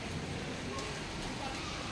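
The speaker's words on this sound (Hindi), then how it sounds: "ये देखो भाई साहब अब गजब बारिश है।" Heavy rain pours steadily during a Delhi ride on an OLA S1 electric scooter, a dense even hiss close by with no pauses.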